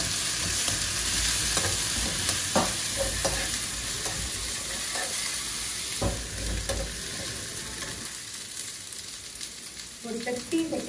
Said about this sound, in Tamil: ஒரு 30 செகண்ட் 1 மினிட் வரைக்கும் இஞ்சி பூண்டு விழுது நீங்கள் வதக்கிட்டு